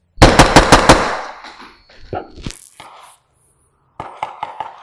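A Knights Armament suppressed rifle fires a rapid string of five close, loud shots, then a lull with faint rustling before a second quicker burst of quieter reports.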